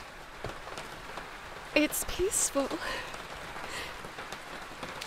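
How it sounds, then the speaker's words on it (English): Rain falls in the video game Stratagem Lost, a soft continuous hiss of drops on surfaces heard beneath a short spoken line and a few brief chiming tones. "Like the rain. It feels nice on me. Sounds nice too."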